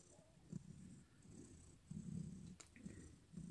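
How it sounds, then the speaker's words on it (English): A cat purrs close by in a soft, rhythmic rumble, with steady breathing cycles and faint background hiss. "She is purring up a storm."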